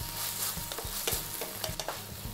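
Ginger garlic paste sautéing in a pan with onion and curry leaves for mutton chukka varuval, a steady sizzle broken by regular scraping strokes of a spoon stirring the mixture, close and alone.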